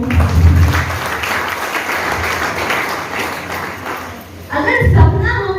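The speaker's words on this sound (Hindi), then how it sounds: "चलिए सर के लिए जोरदार ताली।" An audience at a training session in a Patna venue breaks into loud, close clapping that holds steady for several seconds, then fades as a voice begins speaking over the end.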